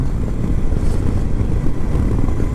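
A Honda Deauville motorcycle riding through tight bends, its engine a loud, steady droning rumble with wind noise, heard close throughout.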